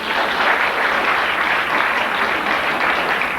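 Sustained applause from a wedding crowd, steady and dense clapping filling the whole moment without pause.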